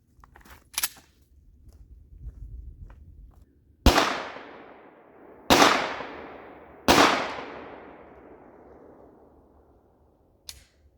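.50 Beowulf rounds fired outdoors at a solid aluminum cylinder on a range: three loud, sharp gunshots a couple of seconds apart, each with a long fading echo, preceded and followed by fainter distant pops.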